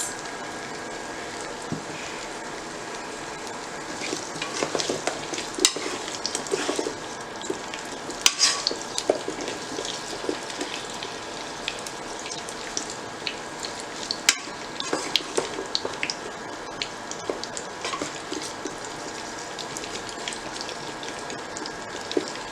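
Pork leg pieces fry in a pan for caldereta, giving a steady close sizzle with scattered crackles and pops and occasional stirring scrapes, with no talking.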